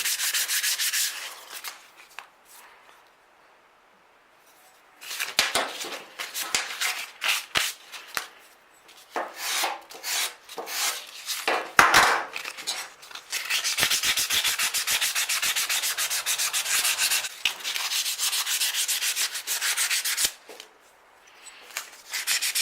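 A Footprint hand plane being sanded and polished during restoration: brisk, rhythmic rubbing strokes, close and fairly loud, with a short quiet pause before the scrubbing resumes and runs steadily to the end.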